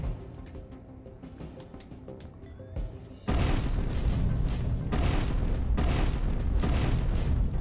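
Missiles launching and detonating in the factory-building puzzle game Infinifactory: after a quieter stretch, a sudden loud boom followed by repeated rolling explosive bursts, dense and sustained.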